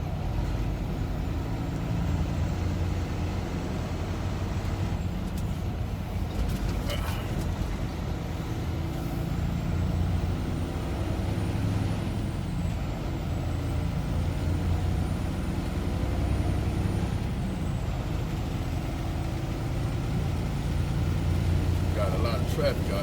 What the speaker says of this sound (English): Got a lot of traffic out here today.